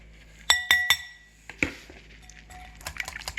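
Egg being mixed with yogurt in a dish, three bright clinks of a utensil against glass, then a heavier knock and lighter scattered taps and scrapes, close and clear.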